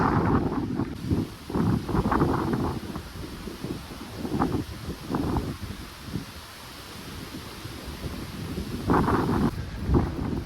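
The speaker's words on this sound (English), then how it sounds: "Boy, it's windy up top here." Strong gusts buffet the microphone at the top of a hiking trail from Whirlpool to White Water Walk, rumbling in uneven bursts and lulls over a steady airy rush.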